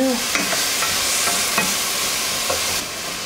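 Onion, ginger and garlic mixture sautés in a pan with a steady sizzle, broken by several spoon scrapes and stirring knocks at close range.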